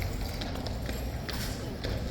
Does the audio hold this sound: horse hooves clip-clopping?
yes